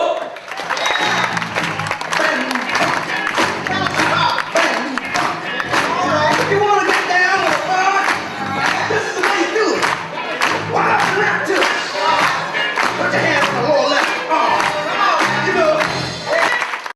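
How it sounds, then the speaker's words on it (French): A large crowd in Perpignan clapping hands at a New Year's greetings event, sustained dense applause with cheers and whoops rising through it and voices mixed in throughout. "vous tapez des mains, c'est parti"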